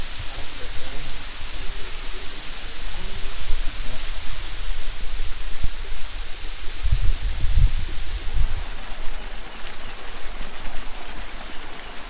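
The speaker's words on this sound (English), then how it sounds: "Here we're hiking back to some really cool waterfalls" Waterfall rushing beside a hiking trail, a constant broadband roar of falling water that stays steady and fairly loud throughout, with a brief low rumble partway through and no talk.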